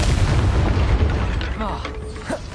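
Hogwarts Legacy game combat with the Confringo fire blast spell: a loud booming burst and crackling rumble that fades over a couple of seconds, with a voice calling out partway through.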